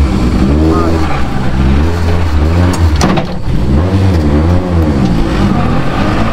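A car engine revs and drones loudly on a rally drive, rising and falling in pitch, with people talking over it.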